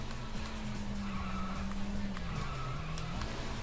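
A car skids under handbrake in the Sega GT racing video game, a sustained tire squeal over steady engine drone for several seconds.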